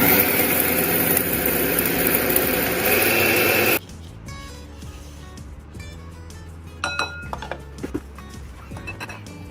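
An electric spice grinder whirs loudly while grinding homemade biryani masala, a dense steady roar that cuts off abruptly after about four seconds, followed by light clinks and taps of handling.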